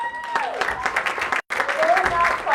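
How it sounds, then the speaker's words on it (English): An audience at a startup demo day breaks into a big round of applause, continuous clapping with a presenter's voice heard over it. "let's give you a big round of applause"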